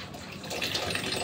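A weak trickle of water runs from a tap, a soft splashing hiss that grows slightly louder partway through the short stretch.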